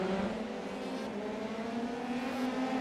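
Formula 3 cars race side by side at Silverstone in a sim racing game, several engines droning loud and steady with shifting pitch as they run close together.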